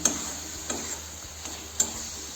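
A spoon stirring jaggery mixture fast in a pan over a gas flame, with faint, irregular scraping ticks against a quiet sizzling background and no talk.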